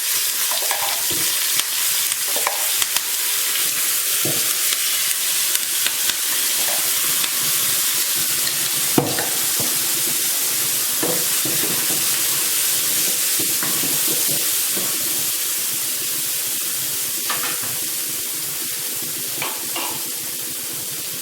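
Ground tomato paste fries with urad dal and curry leaves for Chettinad kara chutney, a loud, close, continuous sizzle with steam hiss and occasional stirring scrapes.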